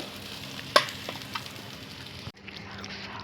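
Soya chunks fry quietly in oil in a kadai, a soft steady sizzle broken by a sharp clink of a utensil and a brief scrape near the end.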